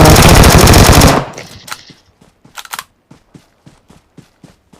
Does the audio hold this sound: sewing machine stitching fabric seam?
no